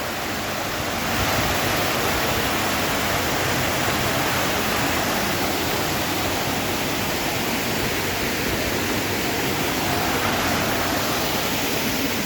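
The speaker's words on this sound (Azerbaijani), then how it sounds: "Burada da çay axır." The Dim River near Alanya flows past open-air restaurant seating, making a constant, even rushing hiss that fills the whole stretch without any speech.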